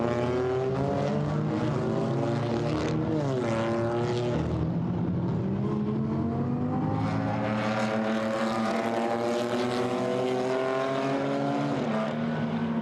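Several GT4 race cars circulate on the Nürburgring circuit during European Series qualifying. Their engine notes overlap without a break, rising and falling in pitch as they accelerate and pass, with no talk.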